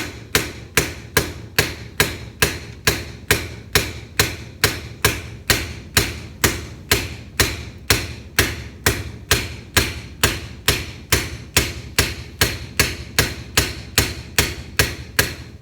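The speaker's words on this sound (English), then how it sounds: "Use a piece of wood, use a hammer," A hammer taps steadily on a wood block to seat an AR rifle barrel, with roughly three dozen evenly spaced, moderately loud knocks heard alone.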